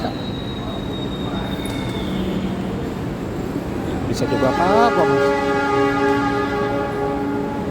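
A long-distance train departs a Jakarta station on a trip to Bandung, rumbling and screeching with metallic wheel squeals over station noise, while people talk nearby.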